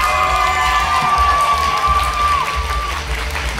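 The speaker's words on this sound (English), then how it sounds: "let's first get a round of applause for our apprentices before they take the stage" A convention cosplay contest crowd applauds and cheers loudly and continuously, with a sustained tone ringing over the noise.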